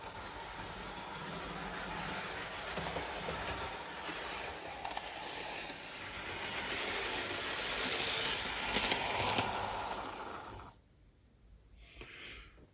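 A Hornby model railway locomotive runs along its track with a steady mechanical whir and rattle for about ten seconds, then cuts out abruptly, leaving near silence with a brief faint noise at the end.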